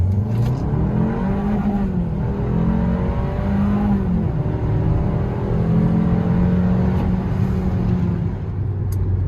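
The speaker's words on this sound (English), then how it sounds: "Let's do a little 0 to 60, but this is map 3" A 2023 Kia K5 GT-Line fitted with a JB4 tuner on map 3 accelerates hard from 0 to 60, its engine droning loud and steady with rising and falling pitch through gear shifts, heard from inside the cabin with no talking.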